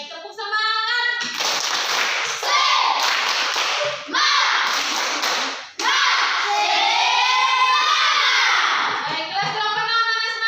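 A class of eighth-grade students does a rhythmic spirit clap, bursts of close, loud clapping in a patterned beat that break and resume, with children's voices shouting and chanting throughout.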